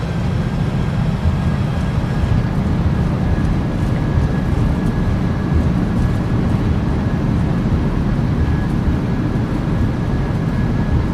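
Airliner thrust reversers roaring on landing in the MSFS2024 flight simulator, a steady, loud broadband rumble held throughout with no break.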